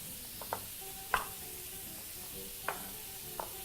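Food sizzles steadily in a frying pan, a quiet continuous hiss with a few sharp clicks and taps of a utensil against the pan.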